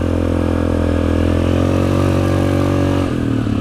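A Yamaha Grizzly 700 XTR quad engine runs loud and close at a steady, throbbing idle-to-low rev on a trail ride, its pitch dropping slightly near the end.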